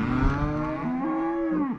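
A cow moos once in a long, drawn-out, fairly close call at a farm by a barn, no talk over it.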